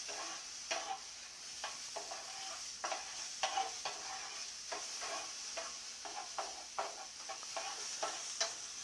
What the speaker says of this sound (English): And you'll notice as we keep the food moving on the bottom of the skillet